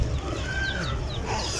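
Chicks for sale at a Friday bazaar in Saudi Arabia give high, thin cheeping chirps over a busy market murmur, the peeps sounding several times in quick succession close by.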